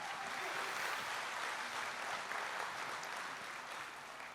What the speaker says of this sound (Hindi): जोरदार तालियां फिर एक बार